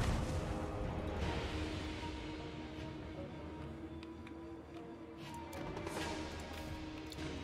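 Artillery shooting in the video game Total War: Warhammer III, a continuous battle din of booms and crashes rolling throughout, with sharper impacts near the middle and end.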